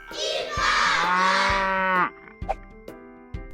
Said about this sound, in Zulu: Inkomo.